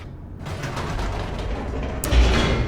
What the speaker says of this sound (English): The elevator raced downward, plummeting towards an unknown fate.